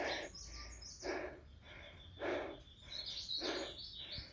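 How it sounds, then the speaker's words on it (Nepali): Birds chirp in short bright bursts roughly once a second over a steady high whine of insects in the forest on Phulchowki Hill, Kathmandu Valley, with no voices. "मिठो चराहरू आवाज आइरहेको"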